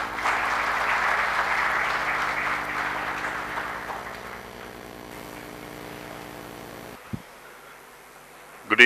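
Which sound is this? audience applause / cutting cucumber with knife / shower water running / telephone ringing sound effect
audience applause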